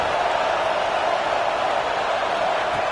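A packed football stadium crowd at a Penn State versus Ohio State game roars steadily, a dense continuous wall of noise during a red zone defensive stand.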